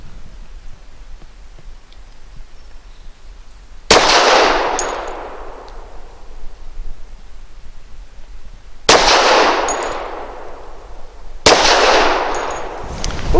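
Three sharp gunshots from a Citadel Warbird 1911 .45 pistol fired at targets, spaced irregularly with long reverberant decays, loud and close with no talking.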